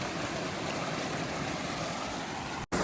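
Rushing glacier stream water in eastern British Columbia, a loud, steady broadband flow as water bottles are filled, cutting out abruptly for a moment near the end.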